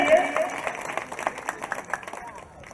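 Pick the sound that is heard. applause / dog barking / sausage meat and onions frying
applause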